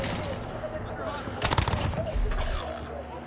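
Rapid FFAR rifle fire with stopping power rounds in a first-person shooter match, steady crackling bursts under constant game noise and a talking player.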